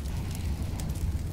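Incendiary grenade fire burning in Counter-Strike: Global Offensive, a steady close roaring crackle with a dense low rumble and hiss that holds level throughout, with no other sounds over it.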